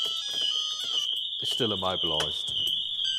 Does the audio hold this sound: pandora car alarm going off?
yes